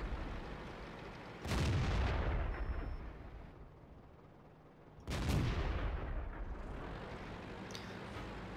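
Two heavy light-tank cannon blasts in World of Tanks about four seconds apart, each a sharp boom followed by a long rumbling decay, with no talking.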